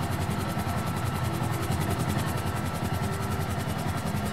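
Police helicopter in the video game GTA V, a loud, steady rotor thump with rapid even beats and an engine whine, close and continuous throughout.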